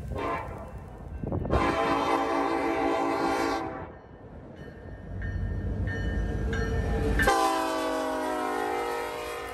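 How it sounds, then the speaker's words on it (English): A southbound Union Pacific freight led by the Southern Pacific Heritage Unit locomotive sounds two long, loud horn blasts separated by rumbling wheel and engine noise, with a brief chime-like tone between them. "a southbound train led by UP number 1996, the Southern Pacific Heritage Unit"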